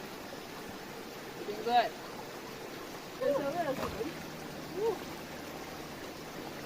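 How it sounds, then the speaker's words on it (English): A tiny hidden spring-fed river in Jamaica gives off a soft, continuous trickle and gurgle close by, with a few brief voices talking over it. "Yeah, so it's a spring, not a river"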